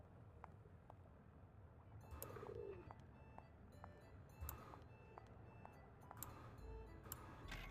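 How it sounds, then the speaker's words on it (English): A pigeon coos faintly in the distance within the Venice setting of the video game Nancy Drew: The Phantom of Venice, soft low calls under a steady ambient bed with scattered ticks and clicks. "Hear the pigeon cooing to us from far away."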